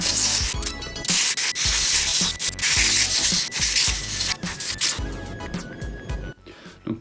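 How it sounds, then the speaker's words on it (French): Light sanding of the battery contact on a cordless drill, heard as close, steady rasping scrapes in short strokes that ease off toward the end. "je suis venu ici légèrement poncer le contact là où se fait ma batterie"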